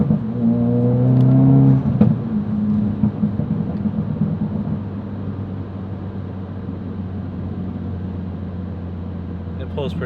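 A tuned 2017 Ford Focus RS on a Tune+ E30 tune accelerates hard, its engine note loud and close, with a brief rising shift early on before a steady, sustained droning pull.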